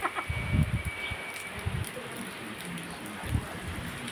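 Rain falls in a village as a steady background patter, with people talking nearby in several short bursts and faint birds calling.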